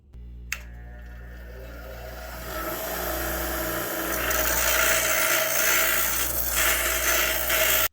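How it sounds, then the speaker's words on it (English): A grinder works down a steel bolt into a pin in a home garage, starting with a sharp contact click, then a harsh, continuous abrasive rasp that grows louder and steadier over several seconds above a low motor hum. "So we're going to grind this one down and drill a hole so we've got a pin in it"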